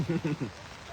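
Rain falls steadily during an outdoor soccer match, a soft hissing patter that continues under a voice speaking at the start.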